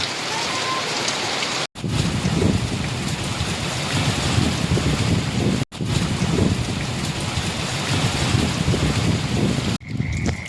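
Heavy rain pours down in strong wind near a filled lake, a loud steady broadband roar of downpour and gusts lasting throughout, broken only by two brief cuts.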